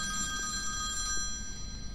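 A telephone rings in the horror video game When The Darkness Comes, its electronic trill repeating over a low ambient hum, moderately quiet and with no talking.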